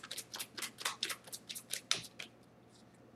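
Rapid, rhythmic riffling of cards being shuffled, a string of crisp bursts that stops abruptly, followed by a brief quiet pause.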